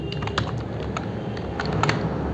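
Close keys clatter in quick, uneven bursts as code in the C programming language is typed on a computer keyboard, with no voices heard.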